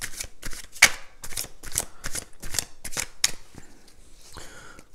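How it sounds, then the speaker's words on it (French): Playing cards being handled and drawn, a quick run of crisp snapping and sliding strokes, close and fairly loud, with no talking. "Alors, on va prendre 3 cartes."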